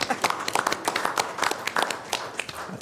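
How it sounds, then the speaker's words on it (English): Scattered applause in a Sacramento County Board of Supervisors budget meeting after a unanimous vote, a moderate run of individual claps in a room, fairly faint and steady. "Yes, applaud."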